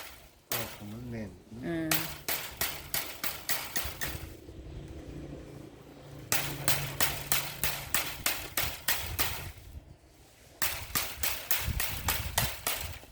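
Woven bamboo strips being tapped tight on a handmade basket: bursts of sharp, rapid knocks in steady runs, separated by short pauses, with someone talking softly between them.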